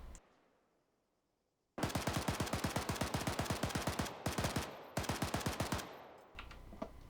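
Rapid automatic hip-fire bursts from a rifle in the Arma 3 military shooter, three long loud strings of evenly spaced shots separated by brief gaps, close and dominant with no talk.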